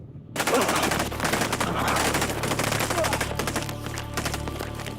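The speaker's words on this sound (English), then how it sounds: "Everyone is firing live ammunition." Soldiers fire live rifle ammunition in a platoon assault exercise across open ground, a loud sustained burst of rapid overlapping shots from many weapons that starts abruptly and continues throughout.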